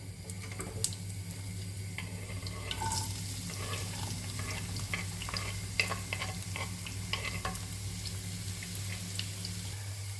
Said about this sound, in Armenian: Ահա սոխը գցեցի, պղպջակները տեսնելով հասկացանք, որ բուսայուղը պատրաստ է սոխին ընդունելու